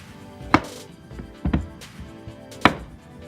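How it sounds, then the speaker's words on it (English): A knife chops through cucumber on a cutting board while sushi is being prepared, giving three sharp, close knocks spaced about a second apart, with a few softer taps in between and no talking. "Next is time to cut the cucumber."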